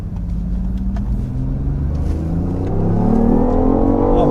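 BMW i8 hybrid sports car accelerating hard, a steady loud engine and drivetrain drone that swells slightly louder toward the end, with no voices over it.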